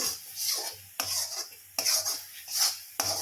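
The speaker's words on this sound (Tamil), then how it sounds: "இன்னும் ரொம்ப நேரம் கிளறிட்டு தாங்க இருக்கணும்" A utensil stirs thickening homemade ABC malt in a pan with repeated rasping scrapes in a steady rhythm of strokes, each one opening with a brief clink, close and fairly loud.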